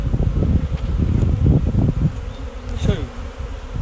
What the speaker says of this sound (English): So I'm going to grab a couple of frames, put plenty of bees on, and just shake them into my nucleus.